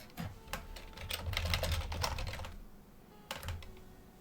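Strong analog-style keyboard typing from The Roottrees Are Dead video game, a quick run of crisp clacking keystrokes, a pause, then a few more taps, fairly faint and with no speech.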